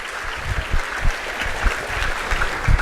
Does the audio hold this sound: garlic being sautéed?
no